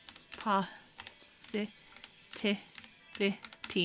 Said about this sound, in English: I'm typing with only my left hand. It feels awkward.